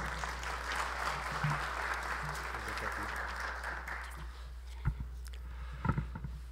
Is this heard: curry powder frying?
no